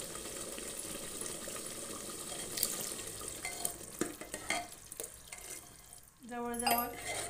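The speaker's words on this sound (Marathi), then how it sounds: "आपण आता यात पाणी घालून घेऊ" Water poured from a glass into a pan of masala tripe (vajadi) cooking on the stove, a brief splashing pour near the end after steady kitchen stirring and frying noise.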